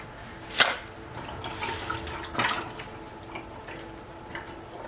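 Canning jars are washed in a sink of hot water, with sloshing and dripping and a couple of sharp glassy clinks, close and fairly quiet.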